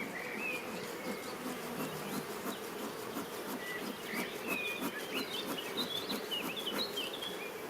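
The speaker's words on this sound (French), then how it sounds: "Je vais faire partir les abeilles." Honey bees hum and buzz steadily around an open hive frame, a dense close-up drone with scattered higher whines from individual bees passing near, no voices heard.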